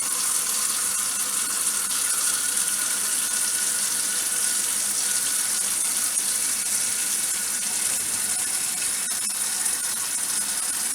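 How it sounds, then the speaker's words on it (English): Hot water running from a kitchen tap while canning pinto beans, a steady, even hiss of flowing water, fairly close and unbroken throughout. "using cold water there, so I gotta run hot water again."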